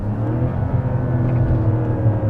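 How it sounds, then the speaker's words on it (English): A steady whine from the electric motor of a 2024 Mazda CX-90 Turbo S while driving, a loud, constant tonal hum layered over low road and cabin rumble, with no talk. "That's not engine, that's like the EV motor making noise."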